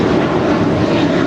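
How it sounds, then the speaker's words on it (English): An American Airlines A321 departing LAX for New York gives a loud, steady jet engine roar at close range, with no other sounds. "That is American Airlines Flight 4 departing to New York on an A321."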